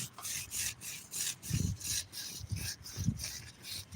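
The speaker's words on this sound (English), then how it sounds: "we're going to put like a medium coat of our rub on the bottom of the ribs" Dry rub is spread across the bottom of a rack of ribs for a BBQ smoke, giving rhythmic rasping strokes about twice a second, close and fairly loud, with a few dull thumps underneath.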